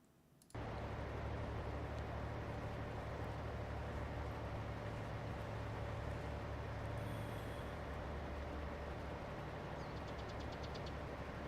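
Tractor engine in Farming Simulator 22 starts abruptly after a brief quiet moment, then holds a steady low droning rumble with a faint whine on top, continuous and even.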